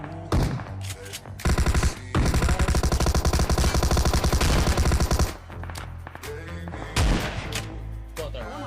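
Heavy gunfire in a PUBG battle on the Erangel map, with shotgun blasts mixed into dense, rapid bursts that hammer loudly through most of the stretch, then return briefly near the end.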